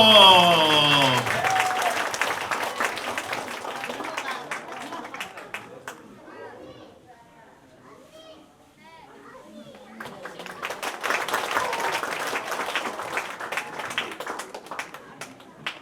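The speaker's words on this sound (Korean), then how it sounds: "박수로 함께 퇴장하겠습니다" Children and a church audience clap together at a Thanksgiving Sunday service for the lower-elementary group, the steady applause loud at first, dipping midway, then swelling again with crowd noise mixed in.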